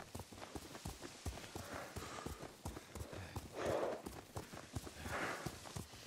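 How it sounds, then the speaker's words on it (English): Horse hooves clip-clopping at a steady walking gait while riding in Ghost of Tsushima, regular thuds continuing throughout against a soft ambient background with no talk. "That's enough riding."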